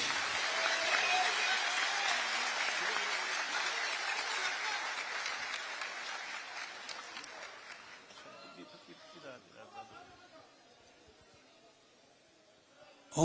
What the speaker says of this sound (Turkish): Yürekten alkışlıyoruz.